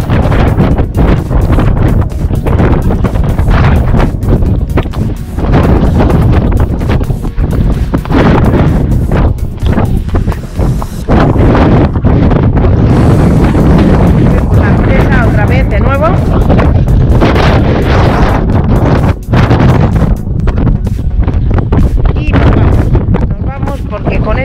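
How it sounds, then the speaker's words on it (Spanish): Strong wind buffets the microphone at a mountain reservoir surrounded by peaks, a loud, roaring, gusting rumble that never lets up, with a person talking faintly under it. "Viento, no se puede estar aquí."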